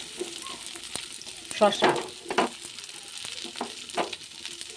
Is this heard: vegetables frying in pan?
yes